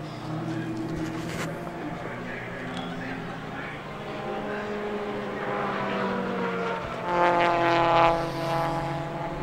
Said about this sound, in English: Let's just wait for a few more cars to come over.